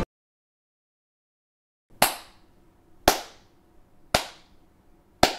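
Four slow, evenly spaced sharp claps about a second apart, close and isolated after a stretch of silence.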